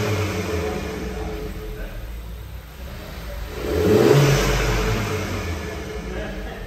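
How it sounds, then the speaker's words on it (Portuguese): Volkswagen Golf 1.4 TSI with a manual gearbox revs with its air filter removed, a steady engine hum that swells into a louder, rising rev before easing back to idle. "Vamos ver o ronco dele aqui sem filtro."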